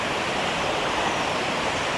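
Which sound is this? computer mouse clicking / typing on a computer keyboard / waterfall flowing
waterfall flowing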